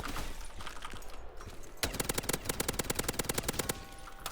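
A Scar rifle from Modern Warfare 2019, fitted with a pack, fires a sustained automatic burst of sharp, evenly spaced shots. The burst begins abruptly partway in after quieter game noise and runs loud and steady almost to the end.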